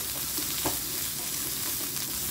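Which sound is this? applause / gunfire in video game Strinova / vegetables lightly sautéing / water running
vegetables lightly sautéing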